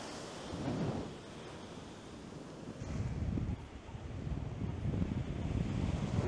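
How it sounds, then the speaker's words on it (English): Strong wind buffets the microphone on a beach during spring break. A dense, loud roar surges and swells without a break. "Man, is it windy."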